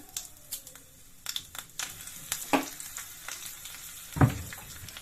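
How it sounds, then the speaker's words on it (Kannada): Mustard seeds, cumin and curry leaves hit hot oil, giving a soft sizzle broken by a few scattered pops and clinks of a spoon against the pan. It is close but fairly quiet. "ಎಣ್ಣೆ ಹಾಕೊಂಡ್ಬಿಡಿ ಸಾಸಿವೆ ಜೀರಿಗೆ ಕರಿಬೇವು ಸೊಪ್ಪು"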